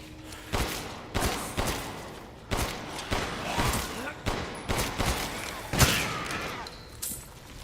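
Pistol gunfire in the horror game Resident Evil Village, a string of sharp, loud shots fired at a steady rhythm over several seconds, each crack trailing off into room echo, with no talk over them.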